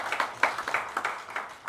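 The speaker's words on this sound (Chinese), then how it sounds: "掌声鼓励啊" Short burst of audience clapping at a Taiwanese political forum, a brisk, fairly light patter of hands with small peaks, heard close and without voices.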